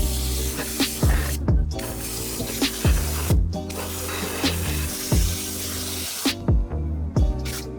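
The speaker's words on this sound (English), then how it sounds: "And then fill it up with water." Water runs from a tap or hose into a bucket mixed with car wash soap. The stream is steady and splashing, with several short breaks and bursts where the flow is cut and restarted.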